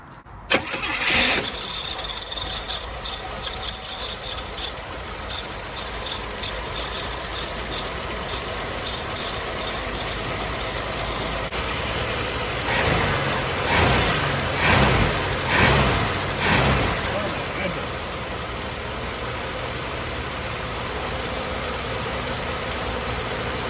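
A 1978 Chevy Malibu that sat for 23 years cranks and catches within the first second, then idles steadily up close, with several loud revs in the middle stretch before settling back to a smooth idle.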